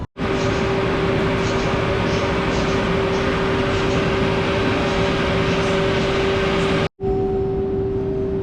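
A Czech Railways Taurus locomotive departs with the Silesia train from platform four at Warszawa Centralna, giving a loud, steady rumble with a sustained electric whine, briefly interrupted near the end.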